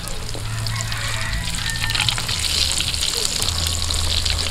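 Thick dried fish (tuyo) frying in a pan outdoors for kinamatisang tuyo, a steady bubbling sizzle with a low hum beneath and a faint voice in the background.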